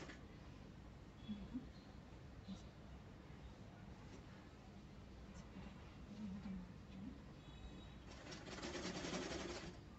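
A sewing machine runs a long straight seam along joined fabric, humming faintly and steadily beneath a speaking voice. It speeds up into a louder whir near the end.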